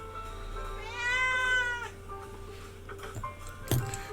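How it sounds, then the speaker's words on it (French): A cat meows once, a clear drawn-out call rising and falling over about a second, close by in a quiet room, followed by faint handling knocks and a sharp tap. "Oui, mon chat, oui, oui, je t'entends."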